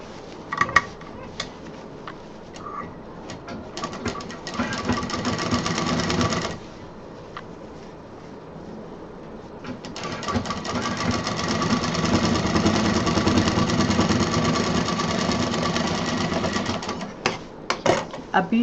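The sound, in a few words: sewing machine stitching fabric for machine cover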